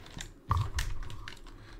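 Keys clack on a computer keyboard in a brief, quiet flurry of a few strokes, close and unaccompanied by talk.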